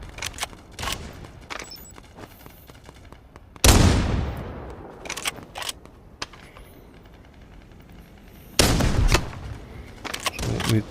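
Gunfire from the shooter game Forefront: scattered distant shots and bursts throughout, with two loud, close sniper-style blasts ringing out with a decaying echo several seconds apart.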